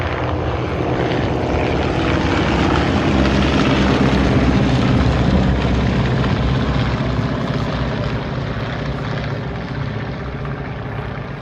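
Several 1930s vintage propeller fighter aircraft fly in formation at the Classic Fighters airshow at Omaka, New Zealand, producing a loud, sustained, throbbing engine drone that swells gently and then slowly fades as they pass.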